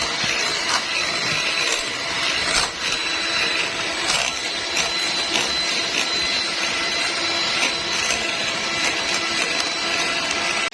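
A mixture beaten with sugar for cake batter, a loud, continuous whirring drone of an electric mixer running close by without pause.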